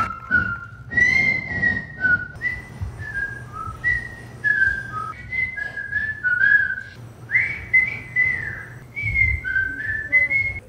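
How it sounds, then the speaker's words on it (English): Several people take turns whistling short melodic phrases in a whistling contest at the Mayberry Days 2022 festival, bright and clear, one after another with brief breaths and small pauses between them. "And our most exciting whistling contest"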